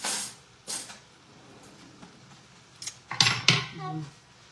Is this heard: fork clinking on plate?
yes